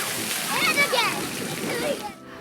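Water splashes steadily at an aquatics center splash pad, with continuous spraying and sloshing and children's voices calling out over the water.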